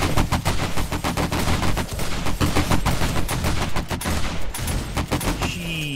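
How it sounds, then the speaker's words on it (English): Automated turrets firing in 7 Days to Die during a zombie horde night, rapid machine-gun bursts crackling in a dense, continuous stream, loud and close, with a brief lull before firing resumes. "The turrets are still shooting on the far left turret is still shooting"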